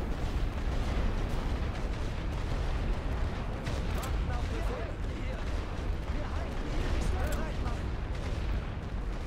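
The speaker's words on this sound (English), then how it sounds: "that was a direct artillery hit on my formation" Battle noise in The Great War: Western Front video game as an artillery shell strikes a troop formation, a dense, continuous rumble of blasts and gunfire with a few sharper cracks, while a voice talks over it.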